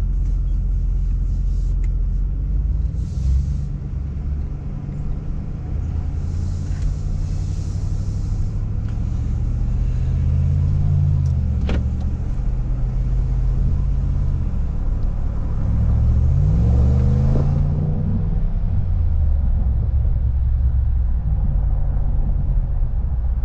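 A car cruising with a throttle controller set to its cruise mode gives a steady, close engine and road rumble, with gentle shifts in pitch as it holds speed and a short rise around the middle.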